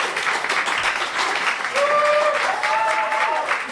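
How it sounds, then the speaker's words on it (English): A comedy-show audience bursts into loud, sustained applause, with a few whoops and cheers rising over the clapping midway. "Round of applause if you like being tied up"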